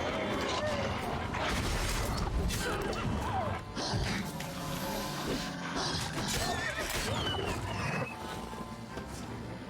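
In The Witcher video game, a horse whinnies amid busy combat noise, with clip-clopping hooves, thuds and crashes, and voices speaking over the action.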